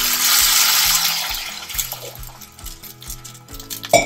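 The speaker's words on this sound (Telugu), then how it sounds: "ఇప్పుడు దీంట్లో వాటర్ పోసుకుందాం." Water poured into a pan of wheat rava for upma, a brief rushing pour at the start that fades into small splashes and kitchen clatter.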